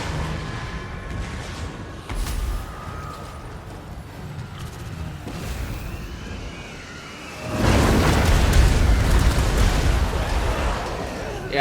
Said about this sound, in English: enough rockets hit to just murder my poor mortars